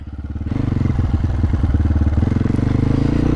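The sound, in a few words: MOTOPRO 300 motorcycle riding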